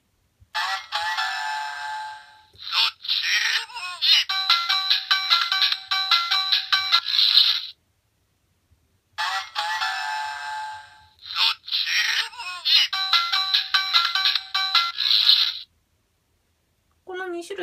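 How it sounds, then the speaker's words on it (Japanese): Electronic voice calls and chiming jingles from a Ninninger Star Ninja Shuriken toy transformation device, played loud and close in two bursts of about seven seconds each, separated by a short silence, with no talking over them. "こちらのスター忍者手裏剣の音声を聞いてみたいと思います。"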